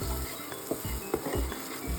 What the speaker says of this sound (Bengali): এবারে ভালো করে মশলাগুলোকে কষাবো যতক্ষণ না কাঁচা গন্ধ চলে যাচ্ছে।